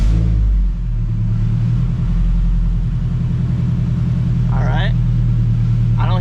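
A Nissan S14 240SX drift car's engine rumbles loudly and close by, settling into a steady idle. Near the end a short rising rev cuts through.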